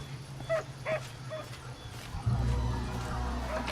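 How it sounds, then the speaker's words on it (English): A corgi dog from the Pathfinder: Kingmaker video game gives a few short yips and whimpers early on, faint and spaced apart, before a louder ambient game hum takes over. "Another corgi."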